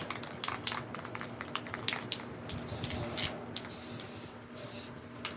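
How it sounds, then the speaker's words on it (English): Aerosol spray paint cans hiss in bursts as planets are sprayed onto a street art piece, with short and longer sprays, the rattle of cans and the clatter of handling between them. "And then we start spraying the planets."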